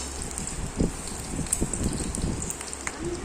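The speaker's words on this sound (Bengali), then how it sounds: "দেখো চিংড়ি মাছ ফ্রাই হচ্ছে" Small shrimp frying in hot oil in a home kitchen, a continuous close sizzle with scattered pops and crackles and a soft hiss running through the whole clip.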